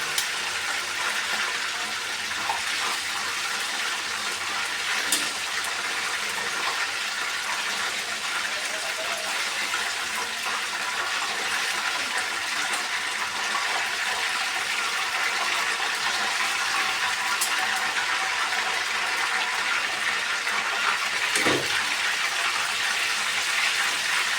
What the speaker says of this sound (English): The bubbling has slowed, so that means they're finished.